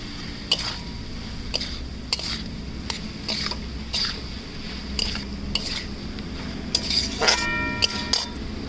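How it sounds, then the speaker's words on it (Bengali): A ground cumin and coriander paste with sugar is sautéed in a pan, with a steady run of spatula scrapes and clinks over a low sizzle, and a cluster of quicker metallic taps near the end. "এবার কষিয়ে নেব একটু"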